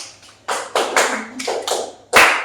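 A classroom of students claps together in counted groups during a maths lesson, sharp unison claps arriving in short rhythmic bunches with brief gaps between them, close and clear against a quiet room.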